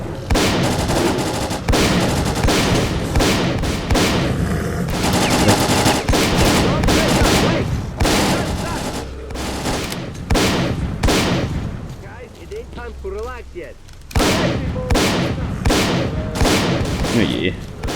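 Firefights in S.T.A.L.K.E.R. Clear Sky: loud, rapid bursts of automatic fire and heavy booms follow one another almost continuously, with one quieter lull in the middle before the shooting resumes.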